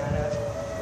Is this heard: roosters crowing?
no